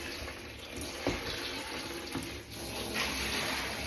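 A cup rinsed under a running tap at a sink: a steady, fairly loud rush of water fills the whole stretch, with a couple of brief knocks as the cup shifts in the stream, and no one speaking.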